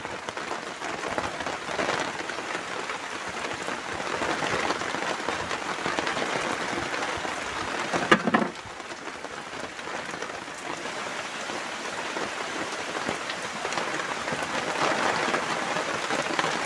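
Heavy rain pours steadily on a floating house during an overnight camping trip, a dense, unbroken hiss throughout with one brief knock near the middle.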